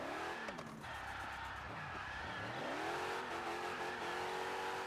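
A car in the Car Parking mobile game revs hard and accelerates, its engine whining up and down as the tyres squeal and skid through a turn, loud and continuous.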